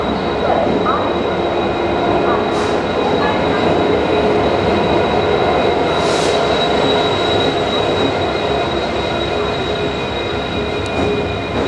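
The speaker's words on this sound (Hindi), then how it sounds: "कृष्णराज पुरम का WDP 4D लोकोमोटिव आज हमें लेकर के जाने वाला।" A Varanasi Mysore Express hauled by a WDP 4D diesel locomotive arrives, filling the scene with a loud, continuous rail rumble and wheel noise, with occasional high squeals throughout.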